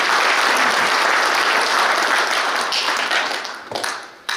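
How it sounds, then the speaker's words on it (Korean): Sustained applause from a ceremony audience at an inauguration gathering of a Korean military academy alumni association, steady and dense clapping that thins and tapers toward the end. "다시 한번 박희도 전 육군참모총장님의 건강을 기원하는 박수를 보내주십시오."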